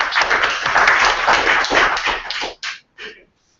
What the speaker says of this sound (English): let's have a wee round of applause for the people organising the DrupalCamp